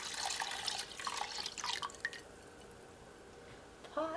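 Thick slurry pours back into a pot of beef pot pie filling, giving a wet, dribbling splash for a couple of seconds that trails into quiet, with a faint voice at the very end.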